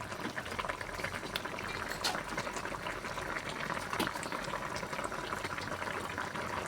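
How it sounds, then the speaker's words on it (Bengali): Water bubbling at a rolling boil in a cooking pot on the stove, a steady dense burble close by, with no voices. "দেখো বন্ধুরা জল ফুটে উঠেছে"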